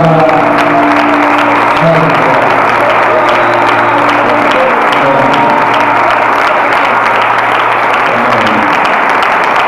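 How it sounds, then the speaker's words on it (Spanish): A church congregation applauds after a sermon, loud sustained clapping from a large crowd, close and continuous, with a few low voices murmuring underneath. "¿Cuántos aplauden a la palabra?"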